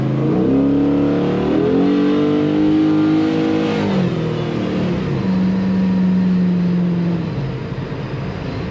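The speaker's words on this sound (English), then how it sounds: "it's a fun, fast revving machine." A 1957 Chevrolet Bel Air restomod with an LS3 V8 revs hard up close, engine pitch rising through several sweeps, dipping, then climbing again before easing off toward the end.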